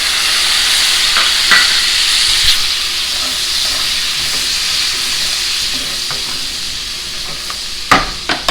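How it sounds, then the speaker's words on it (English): Worcestershire sauce and lemon juice sizzle in a hot steak pan on low heat, a loud steady hiss that runs throughout, with faint scrapes and a few sharper clicks near the end. "now you're going to add your Worcestershire and your lemon juice"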